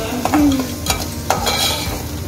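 Onions with salt frying in a pan for drumstick leaf stir-fry are stirred with a spoon, giving several scraping strokes over a steady close sizzle.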